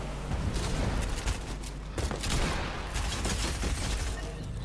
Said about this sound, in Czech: Týpek po nás střílí ve vodě.